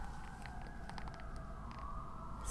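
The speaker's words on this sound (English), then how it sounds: "Sorry about the sirens" Distant sirens of emergency vehicles wail faintly in the background, a thin wavering tone drifting behind a low, steady rumble of surrounding city noise.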